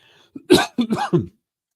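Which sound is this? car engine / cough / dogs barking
cough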